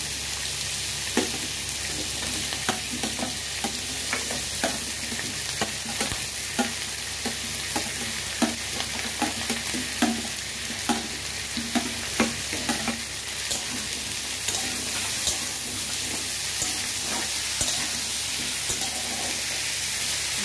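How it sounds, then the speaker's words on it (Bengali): Pumpkin and dried fish frying in a pan, a steady sizzle broken by repeated scrapes and knocks of a stirring spoon, close and continuous with no talking. "এটাকে একটু ভালো করে ফ্রাই করে নেব"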